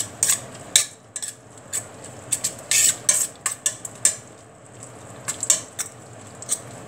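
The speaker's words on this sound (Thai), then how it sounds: "คนให้บักนาว" Metal spoon clinking and scraping against a bowl while lime juice mixture for Thai-style koi is stirred, a series of bright irregular taps and clatters over a quiet background, close and fairly loud.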